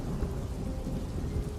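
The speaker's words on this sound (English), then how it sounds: "the quiet yet angry thunder above us, while the rain battered against our bodies" Rain and thunder sound effect: a steady, dense downpour with low rumbling thunder underneath, continuous and fairly loud with no talking.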